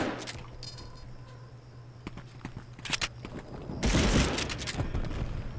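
Gunfire in a PlayStation 1 Medal of Honor game, scattered sharp shots and thuds with a louder burst near the end, heard alone without talk.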